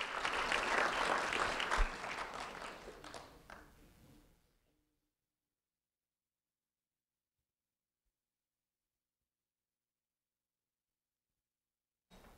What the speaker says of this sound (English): a round of applause for Alaska Bostic,